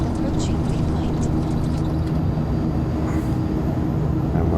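An airliner's engines roar steadily during takeoff in the X-Plane 11 flight simulator, a constant loud, low rumble with no breaks.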